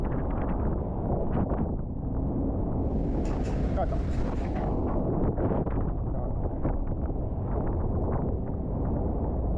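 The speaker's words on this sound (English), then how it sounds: "The winch engine roared." Heavy low roar of a fishing trawler's winch engine on a European trawler hauling in a net, a constant rumbling drone with wind buffeting the microphone and faint splashing above it.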